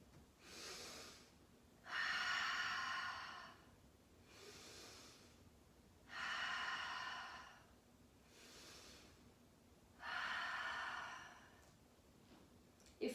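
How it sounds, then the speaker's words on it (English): Slow, deep breathing during a yoga stretch, with long audible inhales alternating with stronger, breathy exhales, repeating in a calm rhythm at close range with no talking. "So it's fundamental to breathe and breathe deep."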